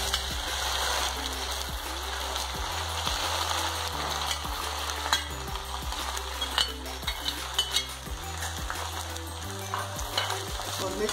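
Okra frying in hot oil with cumin seeds gives a steady, close sizzle, with repeated scraping and clinking of a stirring spoon against the pan growing more frequent toward the end.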